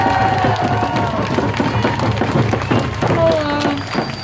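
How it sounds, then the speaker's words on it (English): A crowd at a Black Lives Matter protest rally in Portland cheers, whoops and claps continuously and loudly, with scattered shouts rising over the applause. "Can we get a round of applause for Eden?"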